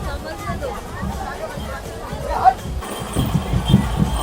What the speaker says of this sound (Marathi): अरे काय बेकार गर्दी आहे